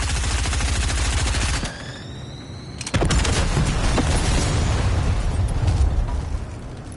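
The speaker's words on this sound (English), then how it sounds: "I never used to like to run the Uzis." Rapid Uzi submachine gun fire in Fortnite, loud and dense bursts of shots with explosive pops, a brief drop in intensity midway, then heavy firing resumes, with no talk.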